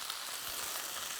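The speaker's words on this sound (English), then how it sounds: "that will continue to sizzle away" Shallots sizzle in a pan after the heat has been turned off, a soft, continuous crackling hiss with no talking.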